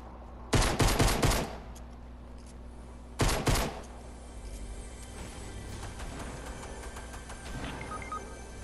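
Two loud bursts of rapid AK assault rifle fire in the Fortnite video game, each lasting under a second, followed by quieter in-game ambience and faint scattered sounds.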